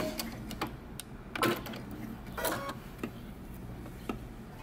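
Sewing machine backstitching at the end of a shirt collar seam: a few short, quiet bursts of mechanical stitching separated by pauses, faint and close.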